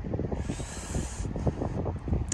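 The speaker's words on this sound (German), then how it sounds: "Aber heute ist auch wieder ein bisschen windig." Steady wind rushing and buffeting across the microphone in Greece between Monemvasia and Elafonisos island, a continuous low rumble with gusty swells and no voices.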